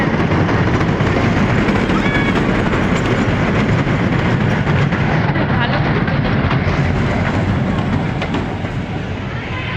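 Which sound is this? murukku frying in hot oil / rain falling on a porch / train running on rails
train running on rails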